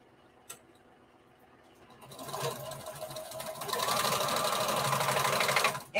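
A sewing machine sewing lock stitches on a bandana patchwork dress: a soft click, then the motor ramps up from quiet into a loud, steady close whir that stops abruptly at the end.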